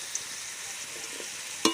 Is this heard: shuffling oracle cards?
no